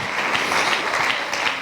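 Congregation applauding in a church during a sermon, a steady dense wash of clapping sustained across the whole moment with no speech over it.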